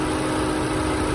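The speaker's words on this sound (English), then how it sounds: "direct injected turbocharged 4-cylinder engine. 210 horsepower, very strong." A 2015 Volkswagen Jetta GLI SEL's 2-liter direct-injected turbocharged 4-cylinder engine idling under the open hood, a loud, steady hum with constant vibration throughout.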